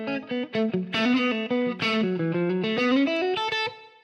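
Electric guitar played through a reverb plug-in in Ableton, a short melodic phrase of sustained, ringing notes with a washy tail, alone and moderately loud.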